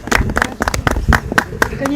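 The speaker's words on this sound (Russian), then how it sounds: "давайте громкими аплодисментами встретим" Audience clapping at an outdoor opening of a memorial public square in Yakutsk, a brief burst of close, uneven hand claps running throughout.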